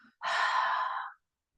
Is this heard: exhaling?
yes